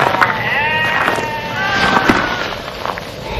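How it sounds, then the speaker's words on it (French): A flock of sheep bleating, several overlapping wavering calls rising one after another over a rough outdoor background noise, fairly close and loud. "Une trentaine de moutons, couchés sur la terre brûlante"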